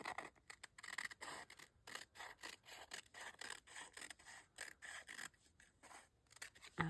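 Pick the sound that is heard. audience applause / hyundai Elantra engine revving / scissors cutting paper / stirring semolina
scissors cutting paper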